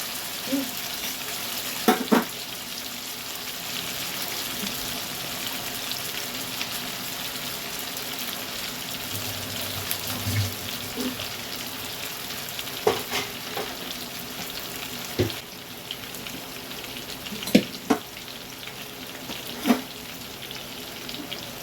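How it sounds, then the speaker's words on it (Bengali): Chicken pieces fry in oil in a pan for chicken chap, a steady soft sizzle throughout with occasional clinks and scrapes of stirring. "এগুলো একটু ভালো করে ভেজে নিতে হবে"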